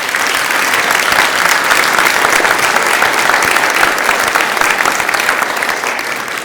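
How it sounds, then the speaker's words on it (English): Audience at a chamber of commerce candidate forum in Gaston County applauds the candidates, a dense, steady wash of many hands clapping close and loud throughout, tapering slightly at the end. "Please give our candidates a round of applause"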